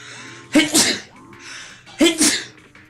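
Two loud, sharp human sneezes burst out about a second and a half apart, each a quick double-peaked blast over a quiet background with a faint steady hum.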